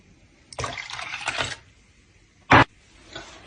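A glass of plain water is poured in a short splashing rush lasting about a second, then a brief louder burst of liquid follows after a pause.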